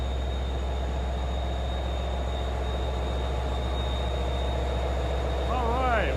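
Steady low rumble and drone of a Long Island Rail Road passenger train bound for Amagansett, constant and close, with a brief squealing whine near the end.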